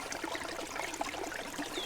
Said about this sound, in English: You can hear the water running behind me